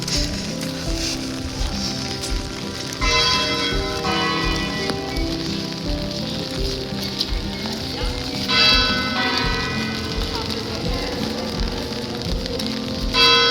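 Rain falls steadily at the Hooghly Imambara in West Bengal, a dense continuous hiss with faint ringing, bell-like tones rising over it at times.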